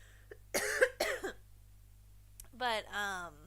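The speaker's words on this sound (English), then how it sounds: "Sorry, I almost coughed." A person coughs in two short bursts, followed a second later by a brief voiced throat sound, close up in a quiet room.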